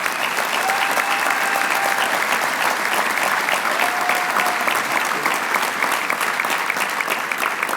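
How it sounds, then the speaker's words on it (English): Sustained audience applause fills a banquet hall at a roast of former Seahawks quarterback Dave Krieg, honoring two doctors; dense, steady clapping holds at full strength throughout with no pause. "So I think we should applaud both of the doctors that were here."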